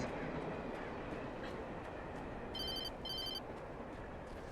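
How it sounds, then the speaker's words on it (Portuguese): A telephone rings in the Alan Wake video game, two short bursts of trilling electronic bell over a low rumbling background, moderately faint. "Opa, telefone."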